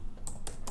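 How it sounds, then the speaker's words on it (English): Someone types on a computer keyboard: three quick, crisp key clicks spaced evenly in a quiet room. "let's just type in wedding"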